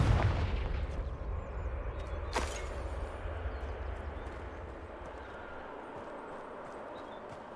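In Hogwarts Legacy, a Confringo fire spell lets out a loud, deep blast followed by a long roaring rumble that slowly fades, with one sharp crack partway through.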